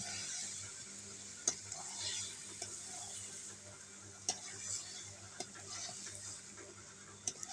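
Chicken being stirred and fried with spices in a village-style chicken do piazza, a soft steady sizzle with scraping stir strokes and a few sharp clicks of a utensil against the pan.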